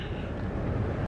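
Low, heavy rumbling buffet of strong wind hitting the microphone outdoors in a parking lot, loud and constant for a brief moment.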